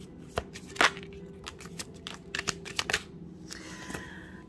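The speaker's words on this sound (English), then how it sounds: "So one more shuffle for you guys." Tarot cards being shuffled by hand in a quiet room, a run of crisp riffling snaps and soft slaps, close and fairly light, with no talk over them.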